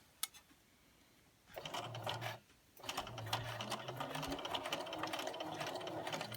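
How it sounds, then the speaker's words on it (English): A sewing machine stitches fabric pieces for a scrappy strip-pieced Christmas tree ornament at a quarter-inch seam allowance, running in two steady bursts with a brief pause between, close and fairly loud. "Begin sewing on one side"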